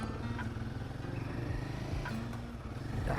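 A Royal Enfield Guerrilla 450 motorcycle with the 450 Sherpa engine runs on the road, giving a steady, moderately quiet engine drone with rhythmic throb throughout, no speech.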